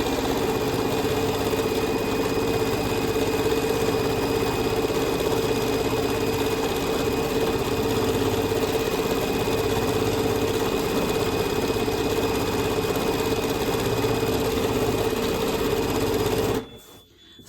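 A Bernina sewing machine with a stitch regulator runs steadily for over fifteen seconds during free-motion quilting stitching, a constant close mechanical hum and rapid needle whir, stopping abruptly at the end.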